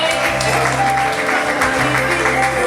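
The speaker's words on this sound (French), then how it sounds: "Est-ce qu'on peut acclamer? On peut acclamer." Audience applause at a Pentecostal women's banquet, a steady dense wash of clapping held at even loudness throughout with low musical tones beneath.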